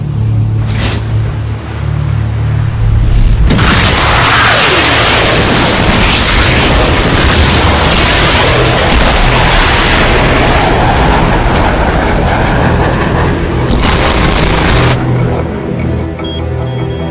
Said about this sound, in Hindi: तुम मिसाइल फायर करो।